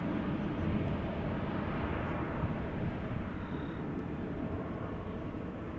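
Airliner taking off from the Kaagbaan runway at Amsterdam Schiphol Airport, heard close by as a steady, loud broadband jet roar that holds for the whole stretch without fading.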